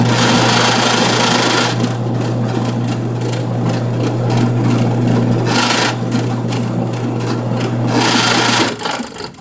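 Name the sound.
drill press slicker burnishing leather edge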